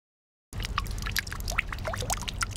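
Falling water in a small backyard garden oasis splashes steadily after a moment of silence, a continuous close pouring and trickling with no voices.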